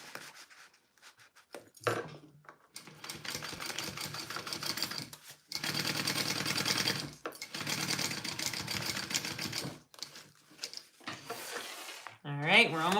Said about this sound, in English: let me sew this down